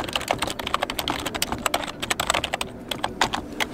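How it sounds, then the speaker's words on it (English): Quick, steady typing on a computer keyboard, dense bursts of light key clicks running continuously and close by, with no voices. "So just type,"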